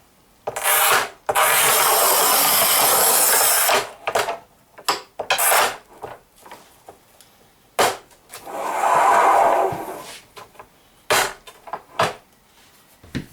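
A manual Haisser tile cutter scores porcelain stoneware tile, making two long gritty rasping strokes separated by sharp clicks, knocks and handling clatter, close and without talk.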